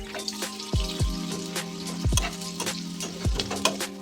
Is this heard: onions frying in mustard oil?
yes